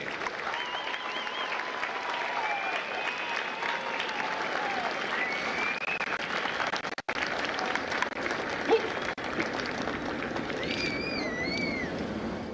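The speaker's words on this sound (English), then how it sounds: "please join me in a round of applause for the company staff of Lima Company" A crowd applauds the company staff at a Marine Corps recruit graduation in San Diego, with continuous broad clapping, whoops and whistles rising above it, steady and fairly loud throughout.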